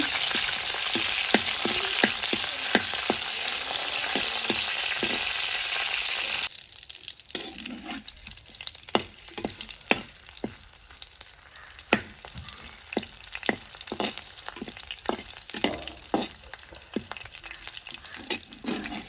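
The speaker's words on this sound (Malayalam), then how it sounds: "പുളിയും കറിവേപ്പിലയും കൂടി നല്ലപോലെ മൂപ്പിച്ചിട്ട് എടുക്കുന്നുണ്ട്" Tamarind and curry leaves fry in a pan, first with a steady loud sizzle and quick taps of stirring, then quieter crackling broken by irregular scraping clicks of the spoon. No one talks.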